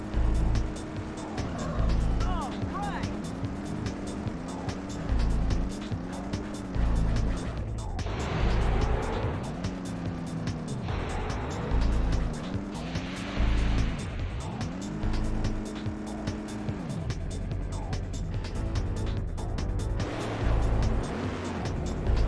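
Cars race in the Hot Wheels Velocity X video game, with continuous synthetic engine whine rising and falling through repeated sweeps, tire squeals and passing cars for over twenty seconds, loud and dense.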